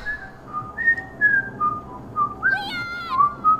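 An enemy in Resident Evil 4 whistles a clear, close melody of held and sliding notes, with a low game ambience underneath.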